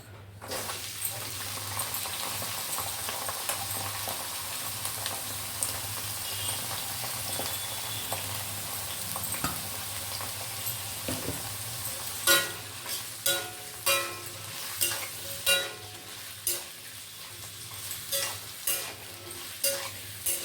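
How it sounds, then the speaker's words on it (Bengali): Beans, capsicum and carrots fry in hot oil in a wok, giving a steady close sizzle with a low hum underneath, then a run of sharp scraping stir strokes in the second half. "এবারে আমি বিনস, ক্যাপসিকাম, গাজর একসাথে ভেজে নেব"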